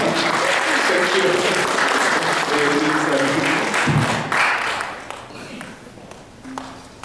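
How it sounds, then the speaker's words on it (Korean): A Korean church congregation applauds during a Sunday sermon. The clapping is loud and dense at first, then thins and fades after about five seconds. "박수 한번 할까요?"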